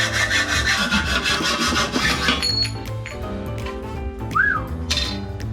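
An aluminium sump is notched with a tool, producing a continuous loud scraping, rasping cut with steady rhythm over background music, no talking.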